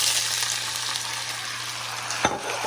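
Garlic cloves frying in melted butter in a pan, a close steady sizzle with a brief stir or clink near the end, no talking.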